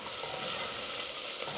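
A steady, moderately quiet sizzle comes from vegetables frying in hot oil, with faint scraping as they are stirred.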